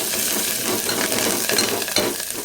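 Ginger, garlic and curry leaves sizzle steadily in hot oil in a pan while being stirred, with a continuous crackling fry and occasional scraping clinks of a spoon against the pan, no talking.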